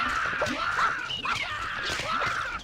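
Harsh, grating squawks from dodo birds in the Ice Age 2: The Meltdown video game, repeating in quick bursts across the whole stretch at close range with no speech.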